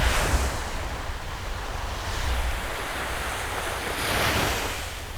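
Steady ocean surf and gusting wind on a beach where kites are flown, a continuous wash of breaking waves with wind buffeting the microphone, swelling slightly near the end, no voices.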